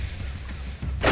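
A weapon fires in the virtual reality game Rec Room: one sudden, loud burst near the end, rising over a low background rumble.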